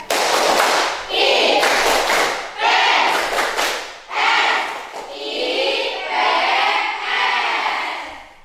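A class of students performs a rhythmic IPS clapping chant, loud and close, with bursts of unison claps alternating with shouted group chanting.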